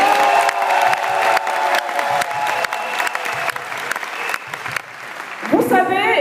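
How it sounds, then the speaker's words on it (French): Loud audience applause for the Angel Secret sanitary pad at a presentation, a dense, sustained burst of clapping with a few cheers and whoops, and voices briefly rising over it near the end. "Je vous prie d'applaudir très fort pour la serviette Angel Secret."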